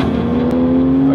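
An Audi R8 sports car drives hard on a race track, its engine holding a loud, steady high drone close by with no voices present.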